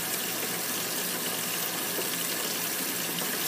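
Water running hard from a faucet over frozen corn to warm it, a steady close hiss and gush with no breaks and nobody speaking.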